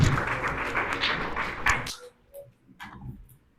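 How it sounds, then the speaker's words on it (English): A church congregation claps together in a dense, sustained round of applause that stops abruptly, followed by a few scattered taps and quieter room noise. "let's give a clap to the Lord."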